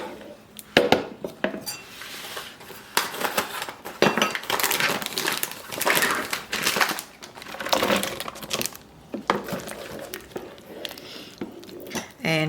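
Tortellini are dropped into a pot of soup, producing repeated clinks and clatters of metal utensils and cookware in irregular bursts, close and fairly loud, with occasional faint talk.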